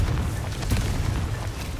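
Confringo spell blast in the Hogwarts Legacy video game, a single deep booming burst with a rumbling low tail that fades over about a second.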